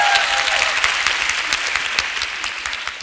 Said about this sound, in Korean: 너무 당연한 얘기를 하는데 박수를 치시네요.